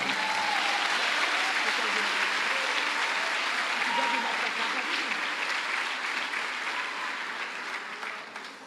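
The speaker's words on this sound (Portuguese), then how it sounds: "Se é para aplaudir Jesus, aplaude gostoso." Congregation applause at a Brazilian evangelical church service, a steady, dense roar of clapping lasting several seconds and slowly easing off, with a voice faintly heard under it.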